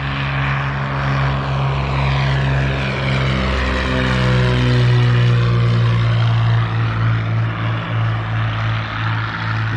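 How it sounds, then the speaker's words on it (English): Propeller airplane taking off from an airport, a loud steady engine drone with strong low harmonics that swells and shifts in pitch as it passes nearby, with no talking. "this is an airport behind me our airplanes taking off and landing"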